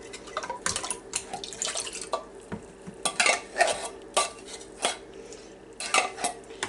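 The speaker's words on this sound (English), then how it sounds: "I'm going to actually rinse out this can a little bit" A can is rinsed out with water in a kitchen, giving irregular metallic clinks, scrapes and splashy drips that come in close, uneven bursts with quiet gaps between them.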